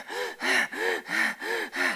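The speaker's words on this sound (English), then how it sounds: "start to breathe more shallowly" A person demonstrates sharp, shallow gasping inhales, six quick rhythmic breaths in a row, loud and close with no speech.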